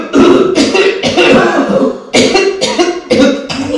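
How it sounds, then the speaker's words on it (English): A series of harsh, loud coughs close by from someone with a fish bone stuck in their throat, coming in several bursts with brief pauses and a rough, strained quality. "Cough."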